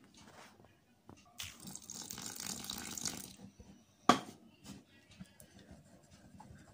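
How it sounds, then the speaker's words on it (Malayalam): Water pours into a batter of flour with a pinch of salt and baking powder for boondi ladoo, a close, soft splashing stream lasting about two seconds, followed by a sharp knock and quieter stirring. "വെള്ളം ഒഴിച്ച്"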